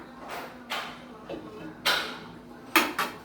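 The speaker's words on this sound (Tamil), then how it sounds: "இப்போ நம்ம மூடி வச்சுட்டு அதுக்கப்புறம் ஒரு 5 நிமிஷம் கழிச்சு நம்ம ஓப்பன் பண்ணி பார்க்கலாம்." A lid goes onto a pot of simmering chicken gravy with a few sharp metallic clanks and clatters, spaced irregularly across a quiet kitchen background.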